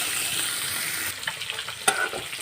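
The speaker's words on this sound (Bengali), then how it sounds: "পেঁয়াজটাকে হালকা ফ্লেমে ভালো করে ভেজে নেব" Chopped onions with chilli frying in a pan on low flame, a soft, even sizzle that gives way to a few stirring scrapes and knocks.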